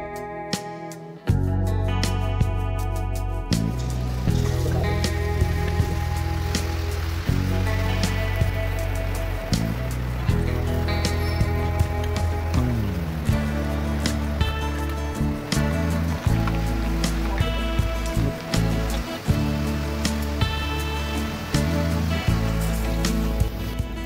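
Karapusa dough presses into hot oil and fries with a loud, continuous crackling sizzle like heavy rain, dense popping bubbles throughout and no voices.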